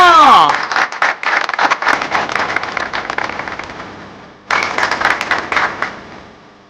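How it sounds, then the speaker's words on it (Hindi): A loud burst of group clapping dies away over a few seconds, then a second round abruptly starts and fades again. "तालियां।"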